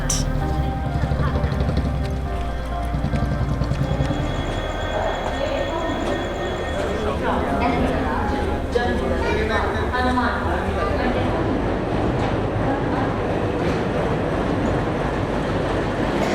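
Steady rumble of a train with clattering wheels and station bustle in Punjab, India, people talking underneath, a brief tone sounding near the start.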